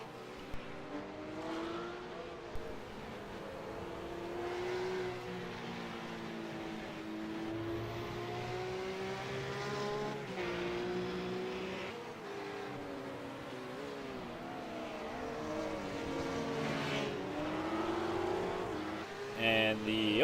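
GT3 race cars roar around a track, engines rising and falling through gear shifts as they chase each other, steady and moderately distant under continuous commentary.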